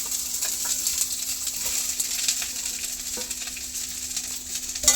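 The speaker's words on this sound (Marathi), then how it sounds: "या भाज्या कढईमध्ये घालायच्या आणि भाजून घ्यायच्या" Vegetables roast in oil in a kadai for a Bhogi festival dish, giving a steady close sizzle with light stirring scrapes throughout and no talk.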